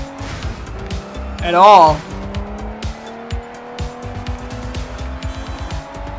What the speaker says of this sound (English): So, we're just dominating the race with a car that should be way slower because it's heavier.